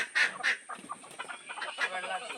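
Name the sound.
chickens clucking after being let out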